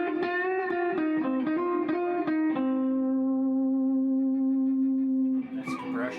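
An electric guitar played through a compression effect rings out as a run of plucked notes, then one long, even, sustained tone, with a brief noisy burst at the end.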